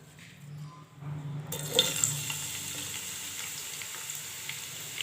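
Onions dropped into hot oil in a pan, a broad steady sizzle rising suddenly and continuing close and loud, with faint clinks and stirring over it.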